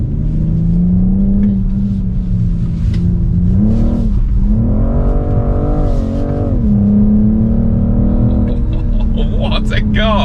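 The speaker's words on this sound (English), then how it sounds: "wait for this M2 CS to do a few laps" A BMW M2 CS drives laps on a race track, its engine droning loudly and continuously with rising and falling revs as it accelerates and passes, with no one speaking.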